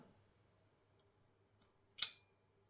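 A single sharp metallic click of an Andre De Villiers Bullshark folding knife's button lock rings out near the end, preceded by a couple of very faint ticks in an otherwise quiet room.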